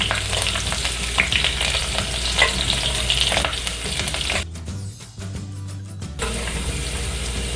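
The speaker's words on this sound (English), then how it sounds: "5 garlic cloves chopped and 3 green chilies, small ones sliced. Let's roast this a little." Chopped garlic and sliced small green chilies fry and crackle in a pan with a loud, dense sizzle and some stirring scrapes, briefly dropping away for a second before the hiss returns.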